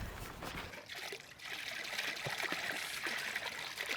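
Fresh tomatoes rinsed under a running tap for a tomato fried rice recipe, a steady close trickle and splash of water with soft irregular drips, no talking.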